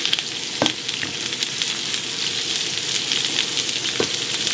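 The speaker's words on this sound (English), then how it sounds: "Put my onions in there. Ooh, you hear that noise?" Onions sizzle in two teaspoons of hot oil in a pan, a loud, steady, close frying hiss with a few brief clinks and no talk.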